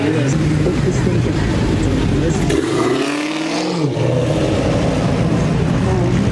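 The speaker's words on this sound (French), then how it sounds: "Ah, elle fait du bruit, hein, la Challenger." A Dodge Challenger engine roars loudly at a car meet, a deep sustained rumble that swells and dips mid-clip, with people talking nearby over the noise.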